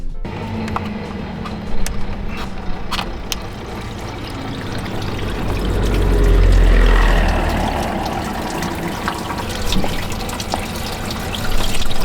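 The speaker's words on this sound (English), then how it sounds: "while that's draining, don't forget to use the pan to catch all of the coolant" Coolant drains from a Mercedes Sprinter diesel cooling system into a catch pan, a steady pouring and splashing of liquid that swells louder midway before easing, close and continuous with no talking.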